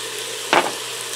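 A single quick stirring scrape of a seasoned taco mixture in an Instant Pot Duo Crisp, one short burst over a quiet background hum.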